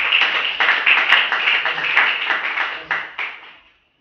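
A church congregation claps and cheers in praise of Jesus, a dense burst of applause that holds steady, then thins out and stops after about three and a half seconds.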